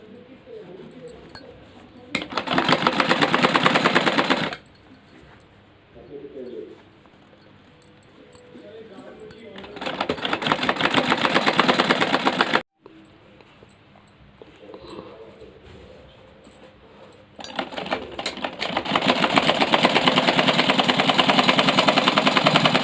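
A sewing machine runs in three long bursts stitching a folded denim strip cut from old jeans, loud and steady whirring with quieter handling sounds between runs.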